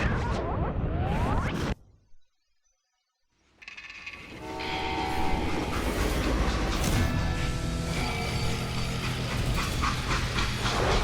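A train in Call of Juarez: Gunslinger rumbles and clatters along with a horn-like tone, breaking off into a brief silence before the loud rushing noise resumes.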